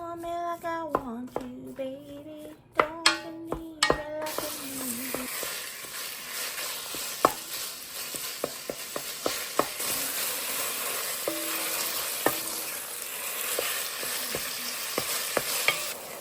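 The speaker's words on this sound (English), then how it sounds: "start browning up the hamburger meat" Hamburger meat browns in a multi-cooker, a soft steady sizzle under scattered clicks and scrapes of a utensil stirring, after a short stretch of music at the start.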